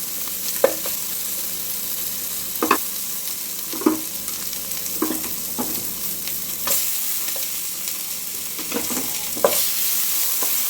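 Tomatoes fry with onion, ginger and salt in a pan for tomato rice, giving an even background sizzle broken by about a dozen sharp spatula scrapes at irregular intervals, with no voices.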